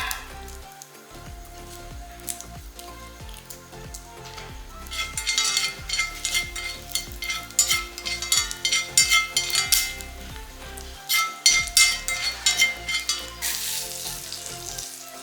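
Cumin, garlic, hing and dried chillies sizzle in hot oil as a tempering for millet khichdi, a close, crackling fry punctuated by stirring strokes and light clinks of a utensil against the pan.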